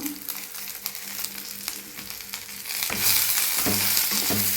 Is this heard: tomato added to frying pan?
yes